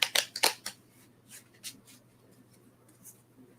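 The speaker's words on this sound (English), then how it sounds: "Let's shuffle this deck." Several quick papery riffles of a deck of playing cards being shuffled, a burst of four close, sharp rustles at the start followed by softer scattered flicks in a quiet room.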